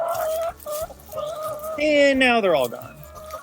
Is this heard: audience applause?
no